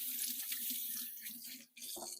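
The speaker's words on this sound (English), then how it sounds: "Let me just rinse because" Hands rinsed under a running kitchen tap while making spinach and feta rolls, a steady close hiss of water splashing, briefly interrupted near the end before flowing again.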